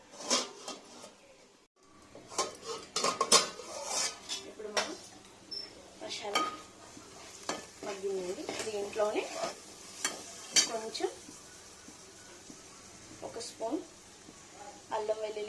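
A spoon stirring ginger garlic paste and masala in a hot pan for a country chicken curry, with scraping clinks against metal and soft sizzling, while a person talks over it.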